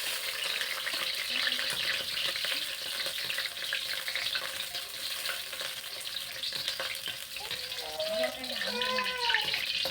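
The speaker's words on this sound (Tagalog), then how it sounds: "Lagyan na natin siya ng mantika. Painitin natin lang. Mainit na siya. Lagyan na natin ng bawang." Garlic sizzles and fries in hot cooking oil in a pan, a steady loud crackle throughout with a voice talking over it.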